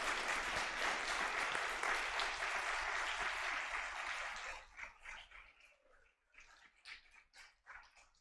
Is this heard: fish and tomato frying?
no